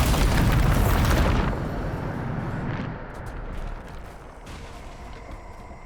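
A Bombarda blast spell in Hogwarts Legacy erupts as a loud, broad explosion that roars for over a second, then decays into a long rumbling tail with faint debris sounds.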